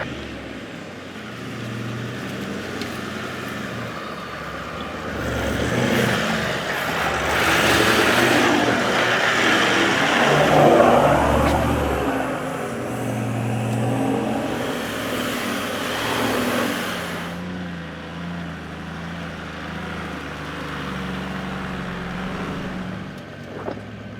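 An overland vehicle grinds slowly along a rough track of salt, sand and cliffs, its engine a steady close rumble that swells and eases with the terrain, heard alone without voices.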